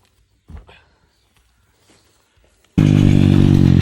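A motorcycle ridden by a young boy practicing in Czechia stays near-silent at first apart from a soft thump, then bursts into a loud, close, steady engine roar for the last second.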